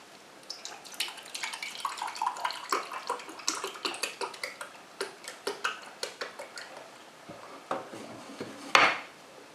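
A cup of milk is poured into pancake batter in a bowl, giving a close, soft trickling splash with scattered light clinks and taps of kitchenware.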